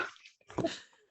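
A single short, faint sneeze sounds up close during a casual conversation, a quick burst that fades away within about a second.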